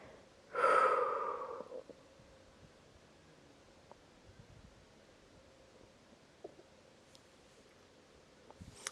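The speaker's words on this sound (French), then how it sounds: "Expirez à fond." Deep exhalation during a psoas stretch: one strong breathy outbreath near the start, followed by quiet room noise with a few faint small rustles.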